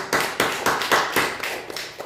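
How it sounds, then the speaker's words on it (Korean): A church congregation claps at a Sunday afternoon service in strong, evenly spaced unison beats, roughly eight loud claps with no talk over them. "박수로 영광 돌려드리겠습니다"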